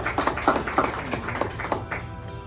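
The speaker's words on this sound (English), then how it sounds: "Please, big round of applause." Audience at a community event clapping in a short round of applause, brisk irregular claps at moderate distance.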